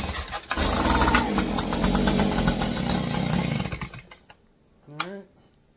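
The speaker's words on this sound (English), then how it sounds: "That was on choke, folks. Alright. So started and died." A Stihl handheld leaf blower, refitted with a new fuel system kit, fires up on choke with a loud buzzing two-stroke rasp for a few seconds, then sputters out and dies, followed by a short voice.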